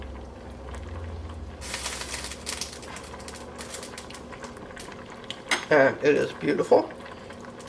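Chicken soup with pasta bubbling fiercely in a pot, a steady simmering texture with faint pops, under a voice and a few clinks of a spoon against the pot.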